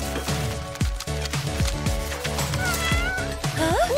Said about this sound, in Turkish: Kedi videolarına kimse hayır diyemez.